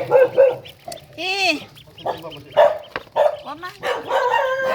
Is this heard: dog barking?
yes